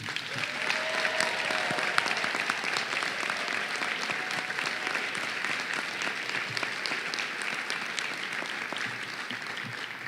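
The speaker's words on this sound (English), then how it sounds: "I think they deserve a big round of applause from you" A large commencement crowd of medical school graduates applauding their parents and families, a continuous even wash of clapping heard from a distance, sustained steadily for about ten seconds without speech.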